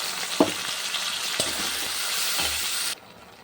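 Spice paste frying with potatoes in hot oil, a steady close sizzle with a few soft knocks of a spoon against the pan, cutting off abruptly near the end.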